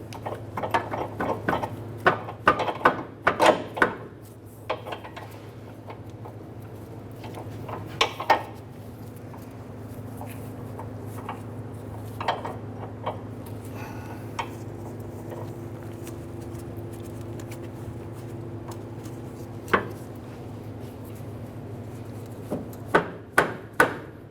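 Sharp metallic knocks and clanks come in bursts as a Honda Accord front lower control arm is worked free from its ball joint, separated by stretches of quieter hum.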